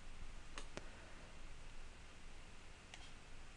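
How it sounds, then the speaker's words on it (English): Computer mouse right-clicks, a few sharp isolated clicks near the start and again toward the end, faint and close over a steady background hiss, with no talking. "I'll just go ahead and right click and run this"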